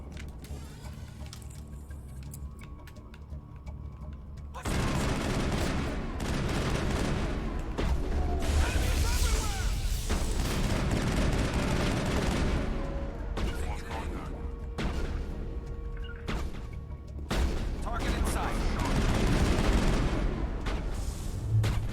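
Gunfire rattles through combat in the Mass Effect 1 video game: dense, sustained volleys of shots and booms that grow louder after a quieter opening, with a voice occasionally talking over them.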